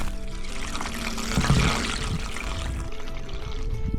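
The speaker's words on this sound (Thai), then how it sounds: "ตอนนี้น้ำไหลครับต้องฟังเสียงน้ำด้วย" Water pours steadily from a pump hose into a fish pond, a continuous close splashing rush with a brief louder gush in the middle.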